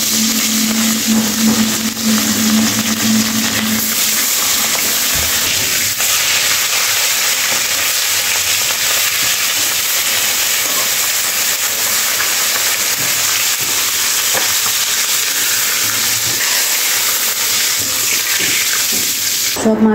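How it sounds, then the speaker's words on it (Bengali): Rui fish frying in oil in a wok, giving a loud, steady sizzling hiss that runs the whole time, close up with no talking. "कड़ाइते आमि तेल दिए दिएछि, एखन आमि माछगुलो भेजे नेब।"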